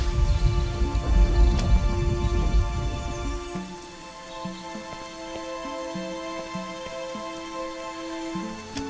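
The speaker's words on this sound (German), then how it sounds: "Einmal Regen." Heavy rain in the video game Lords of Xulima hisses loudly for a few seconds, then fades away, leaving soft tonal game music with spaced, repeating notes.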